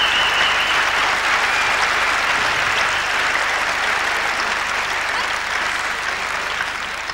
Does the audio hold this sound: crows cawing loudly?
no